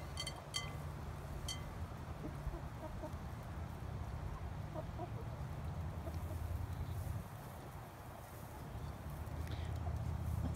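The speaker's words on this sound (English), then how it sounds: "That's my rescue rooster" A rescue rooster clucks in short bursts in an outdoor homestead yard, with a steady low rumble and scattered bird sounds around it, moderately near and continuous through the scene.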